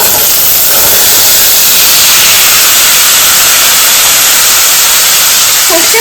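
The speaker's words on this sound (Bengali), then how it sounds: "সর্ষে দিয়ে দিচ্ছি, ঢেকে দিয়েছিলাম যাতে ফেটে বাইরে না বেরোয়।" Mustard seeds spluttering and sizzling in hot oil inside a covered pan, heard as a loud, steady hiss that stays constant for the whole stretch with no voices.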